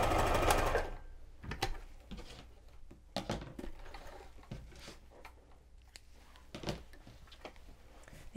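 A sewing machine backstitching a fabric circle onto a yoga mat bag, short rattling bursts of stitching separated by brief pauses, close and fairly quiet.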